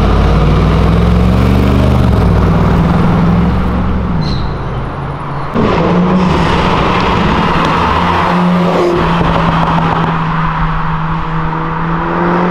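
A car engine roars loudly on Avenida Europa, revving and dropping pitch as the driver downshifts, with the note swelling and falling over the length of the clip. Another engine surge follows, set against steady street rumble.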